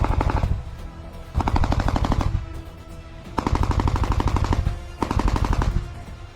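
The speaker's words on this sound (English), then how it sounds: "An APC passes through the tree line and fiercely fires at Ukrainian trenches while simultaneously unloading infantry" An armored personnel carrier fires its gun at Ukrainian trenches from a tree line: four loud, close bursts of rapid automatic fire, each lasting about a second, separated by brief rumbling gaps.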